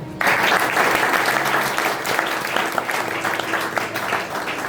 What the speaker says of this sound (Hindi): इसलिए उस आदमी के लिए आप सब तालियां बजाओ।